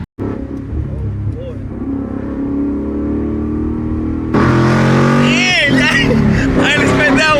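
A manual Ford Mustang 5.0 engine drones steadily while driving, then jumps louder into a harsher, rising rev as it accelerates, close and continuous, with voices talking over it.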